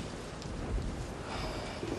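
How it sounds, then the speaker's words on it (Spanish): Steady rain falls as a dense, soft hiss, fairly faint and continuous, with no talk over it. "Lluvia de mierda, ¿cuándo va a parar?"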